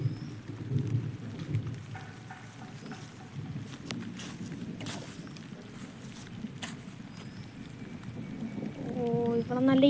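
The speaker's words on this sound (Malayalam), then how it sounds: "ഇവിടെ നല്ല ഇടിവെട്ടും മഴയൊക്കെ പെയ്യുന്നുണ്ട്." Heavy rain falls in a continuous, fairly loud wash during a thunderstorm, with rumbling low-end and brief crackling bursts, heard outdoors on a fishing trip.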